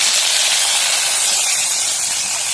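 Ginger paste hits hot mustard oil in a pan and gives off a loud, steady, unbroken sizzle that hisses on alone throughout.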